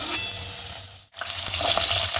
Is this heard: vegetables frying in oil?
yes